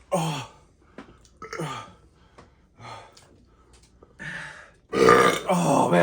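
Repeated loud burps after eating chili dogs during a burp contest, several separate belches spaced across the clip, close up, ending with a long drawn-out burp.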